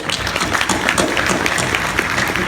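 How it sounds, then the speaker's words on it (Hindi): Audience clapping at a yoga lecture in a large hall, a steady dense patter of many hands that fills the space continuously at a moderate level, with no pauses. "सब लोग अच्छे से एक क्लैपिंग करते हैं"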